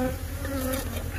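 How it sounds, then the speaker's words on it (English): Steady droning buzz of many killer bees in the eaves of a building, continuous and close, with no talking. "nobody else in the world has so much fun dealing with killer bees as we do"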